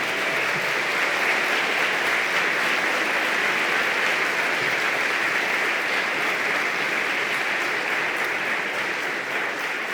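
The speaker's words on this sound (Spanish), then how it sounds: "Démosle un fuerte aplauso al Señor." A church congregation applauds loudly at a Christmas service, a dense, steady wash of many hands clapping that fills the room without a break for about ten seconds.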